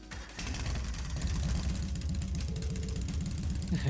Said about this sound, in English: Alright, I'm going to start up the engine now.